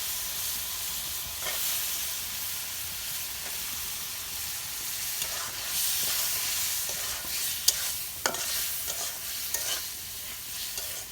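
Potatoes sautéing in a pan with taro stolons waiting to go in, a steady broadband sizzle broken by scraping stirs at irregular intervals, close and moderately loud with no voices.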